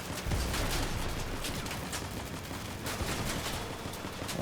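Volley-fire weapon shooting in the Crossout vehicle combat game, a rapid series of distant, muffled shots in quick bursts over a constant low background rumble, fairly quiet throughout with no speech.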